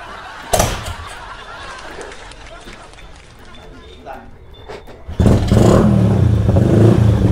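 A Yamaha Exciter 155 motorcycle engine starts and revs: a sharp bang early on, quieter stretches with clatter, then a loud sustained rev near the end, with people talking nearby.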